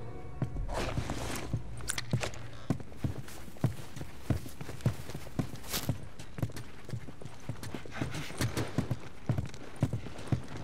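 Steady clip-clop of horse hooves on hard ground in The Last of Us, a brisk continuous walking rhythm, fairly close, with no talking.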